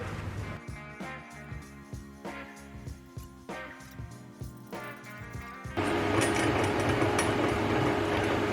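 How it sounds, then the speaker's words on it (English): A nut is tack welded in place for a bike rack on a shop ute: a steady run of rhythmic clicking and knocking gives way to a sustained, loud crackling buzz for the last few seconds. "now we'll just try and tack this nut in place"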